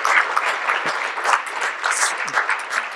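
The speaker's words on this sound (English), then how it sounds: "I do want to have a round of applause for her." A round of applause from an audience at a meeting introduction, dense steady clapping filling the whole stretch at moderate loudness.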